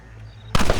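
Gunshots in the Red Dead Redemption western video game, a sudden loud burst of close gunfire erupting after a quiet stretch of ambient background, dense and sustained to the end.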